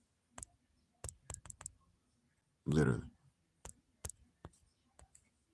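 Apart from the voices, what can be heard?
typing and clicking on a computer keyboard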